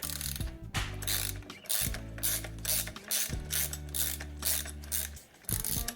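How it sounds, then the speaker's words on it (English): A wrench and 6mm Allen key loosening the axle nuts on an EVOLV Sprint bike wheel, producing rapid ratcheting clicks in repeated bursts, each with a low mechanical grinding, close and loud. "I'm using a 6mm Allen key on the opposite side. And you'll want to turn them in opposite directions."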